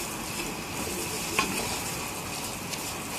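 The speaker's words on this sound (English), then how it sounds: "Now I will saute this flour." Flour sautés in extra virgin olive oil in a pan, giving a soft continuous sizzle with faint scraping from the stirring utensil and a couple of light clinks against the pan.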